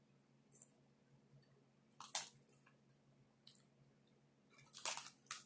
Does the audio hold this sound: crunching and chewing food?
yes